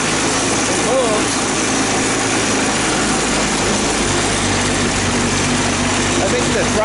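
An old barn-find ATV engine runs at a steady high idle, a continuous buzzing drone close by with a faint rising and falling note, with people talking over it.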